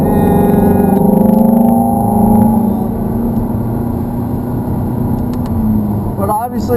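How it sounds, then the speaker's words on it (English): A Ferrari 430 accelerating on a race track at Hallett, its engine droning loudly and steadily with rising tones inside the cabin, while a voice talks over it. "we'll follow this around towards the outside, and we'll start to accelerate off over on the left"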